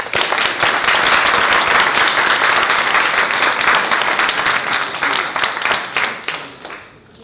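An audience at an evening event applauds to welcome two guests to the stage, a loud dense burst of clapping that holds steady for several seconds before tapering off near the end.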